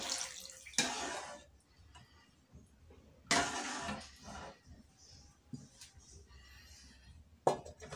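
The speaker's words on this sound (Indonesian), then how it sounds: "Kita masukkan air pemirsa ya." Water splashes and pours in short bursts into a pot of vegetable and corn soup, with faint clinks and quiet gaps between pours.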